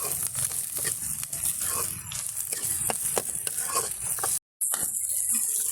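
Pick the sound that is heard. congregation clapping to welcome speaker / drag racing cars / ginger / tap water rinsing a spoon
ginger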